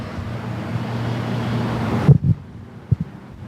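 Wind gusts across an outdoor dressage arena, a broad rushing roar buffeting the microphone for about two seconds, then cutting off abruptly to near quiet with a few brief thumps.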